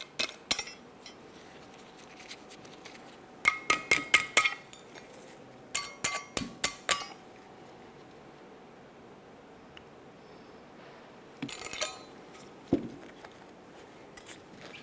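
Metal caliper bracket tins being removed from the front brakes of a 2009-2010 Pontiac Vibe, heard as clusters of sharp metallic clinks and ticks in several bursts with quiet gaps between.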